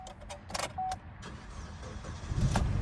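A flooded Ford F150 truck's engine cranks and catches, a short starter whir and click followed by the engine settling into a low rumble, nearby and with no one speaking.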